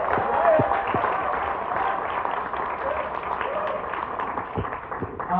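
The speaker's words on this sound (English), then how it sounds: "Big round of applause" Audience applause at a TF Con 2024 fan-convention Q&A panel: a steady, dense wash of clapping from a crowd in a hall, lasting throughout at even loudness with no pauses.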